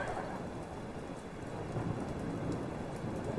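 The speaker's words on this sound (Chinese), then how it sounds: "坏了，下雨了！" Heavy rain pours down in a dense, continuous roar, with a low rumble of thunder underneath. There are no voices.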